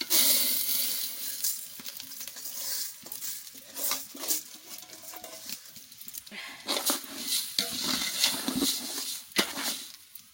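Rice added to fried onions in a pan and stirred, with irregular scraping, rattling grains and soft sizzling up close, interrupted by brief clatters of the utensil.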